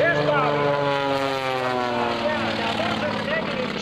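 The Samson propeller aerobatic airplane, flown by Bobby Younkin at the 2004 Sussex Airshow, snap-rolls overhead with a loud, continuous engine and propeller drone whose pitch slides and wavers throughout.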